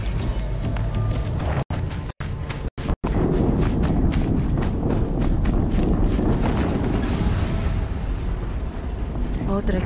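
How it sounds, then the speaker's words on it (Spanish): A deep, roaring video game explosion in Horizon Zero Dawn rumbles continuously with heavy low-end noise, broken by a few abrupt dropouts; no clear speech. "Otra explosión."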